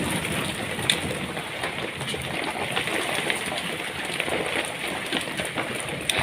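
Dense, steady patter of hailstones striking a rooftop, a constant hiss of impacts with occasional sharper clicks, no voices.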